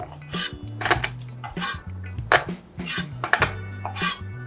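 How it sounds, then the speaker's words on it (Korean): A knife presses garlic cloves against a board while making an all-purpose soy seasoning sauce, producing several sharp metallic clacks and thumps in an uneven rhythm, close up and alone. "칼로 한번 이렇게 눌러서 넣어 주시면"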